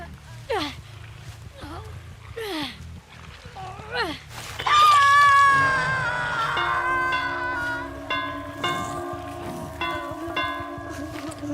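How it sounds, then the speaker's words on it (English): Bell rung in the Dead by Daylight video game, a struck tone ringing out with sustained overtones that decay over several seconds, heard under steady talking from a voice that also makes sliding, yelping vocal sounds. "Bing on the bell, bong on the bell."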